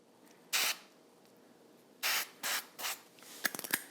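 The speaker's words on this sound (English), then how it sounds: "I do want to spritz it with just a little bit of my avocado spray." Avocado oil spray spritzed onto pumpkin seeds before BBQ seasoning: one short hissing burst, then a quick run of three more sprays a moment later, followed by light clicking and rattling from the spray can, close up and fairly quiet.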